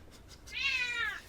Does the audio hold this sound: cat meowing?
yes